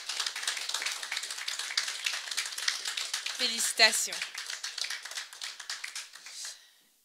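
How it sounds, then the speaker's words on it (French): An audience at a business forum awards ceremony claps in dense, steady applause, with a voice briefly offering congratulations midway before the clapping fades out at the end. "on vous demande encore d'applaudir"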